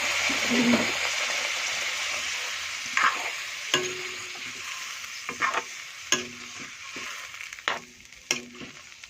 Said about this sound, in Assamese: এতিয়া মাংসখিনি ৰঙচুৱাকৈ ভজা হোৱাৰ পিছত মই ইয়াত দি দিম পানী অলপ দি দিছোঁ।